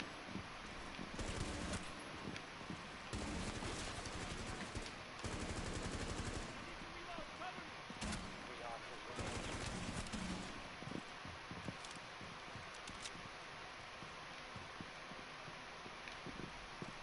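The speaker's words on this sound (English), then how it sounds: "But with that gun you have to kind of adjust as you're shooting it a little bit." Gunfire in a Rainbow Six Siege match comes as repeated rapid bursts of automatic fire, fairly quiet overall, interspersed with lighter clicks and movement noise.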